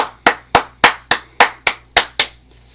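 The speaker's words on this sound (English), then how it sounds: "Hey, clap it up for Otis Star." Eight sharp, evenly spaced hand claps at a steady rhythm, close and loud, each with a short decay, followed by quiet.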